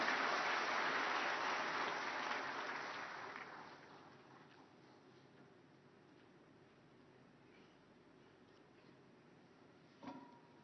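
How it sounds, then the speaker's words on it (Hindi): Audience applause welcoming a minister at the Udyami Bharat event in Delhi: a dense, loud wash of clapping that fades over the first few seconds into a quieter room murmur, with a brief single knock near the end. "और एक बार तालियों के साथ स्वागत माननीय मंत्री जी का।"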